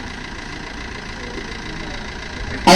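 A Maruti Swift VDI diesel engine, a 2014 model, idles steadily at close range with a constant low rumble and no talk.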